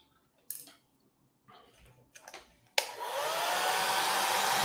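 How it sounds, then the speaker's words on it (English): A hair dryer switches on and blows steadily and loudly after a few quiet knocks and handling sounds, used to dry water splashes off a weathered scale model. "Use a hairdryer to see kind of where you're at."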